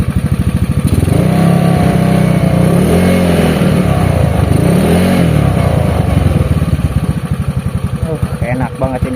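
A carbureted Honda Beat scooter engine, freshly rebuilt with a new connecting rod and crankshaft bearings, revs loud and close in repeated rising and falling bursts for the whole stretch, with a voice talking over it.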